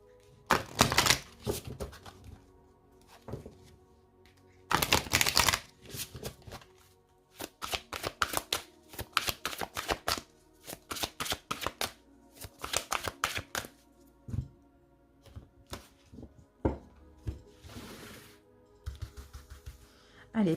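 A deck of Gaia oracle cards is shuffled by hand in close, crisp riffling bursts, several quick flurries separated by short quiet gaps, with no talking.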